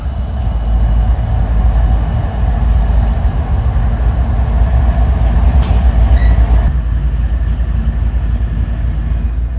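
CSX freight train led by GE ES44AH, EMD SD70MAC and GE ES40DC locomotives rumbling past close by, a loud, continuous low roar of engines and rolling wagons with faint clatter, easing slightly near the end.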